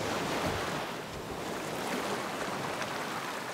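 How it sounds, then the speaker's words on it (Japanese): Ocean waves wash onto a beach in an animated children's show about treasure hunting, a steady broadband roar of surf with some wind, loud and close, with no talking. "ほら、次の波が来たみたい。"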